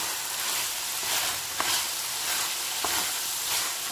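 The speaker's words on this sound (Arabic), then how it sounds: "اخليهم ينحمسون شوية" Chicken hearts and gizzards fry in a pan, giving a steady close sizzle with a couple of sharp pops and light crackles, with no talking over it.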